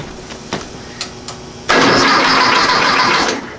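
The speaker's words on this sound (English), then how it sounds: "let's put some ignition to this thing and try to crank this bitch over." A 1956 VW Beetle engine cranks and catches after a carburetor swap; several faint clicks and starter taps come first, then the engine bursts into a loud, steady running roar close by.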